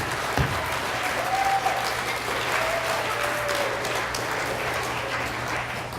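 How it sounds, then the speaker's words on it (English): An audience at an elementary school D.A.R.E. graduation ceremony gives a sustained round of applause, thick and continuous, with a faint low hum and a brief whistle-like tone beneath the clapping. "I'd like to give a big round of applause to our D.A.R.E graduates."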